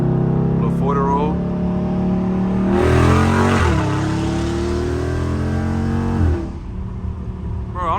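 Dodge Charger Scat Pack V8 revving and accelerating with a loud, throaty exhaust, heard from inside the car; the engine note climbs strongly in the middle and drops off near the end, with someone talking over it.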